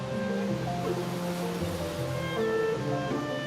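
Rough ocean surf crashes below the cliffs at Biarritz as a steady, broad roar with soft music playing over it.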